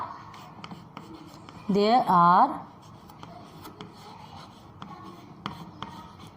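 Writing the answer in a seventh-grade maths lesson on HCF and LCM makes a faint, steady scratching texture throughout, while a teacher's voice briefly speaks over it.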